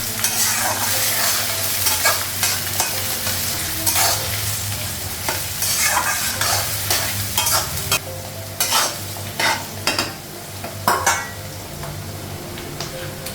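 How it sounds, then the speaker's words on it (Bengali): Onion fries in a pan for a mutton curry, giving a loud, continuous sizzle with repeated scraping and stirring strokes of a spoon against the metal, close up and with no voices. "পেঁয়াজটা লাগানো, পেঁয়াজটা একটু লাল করে ভেজে নিবি"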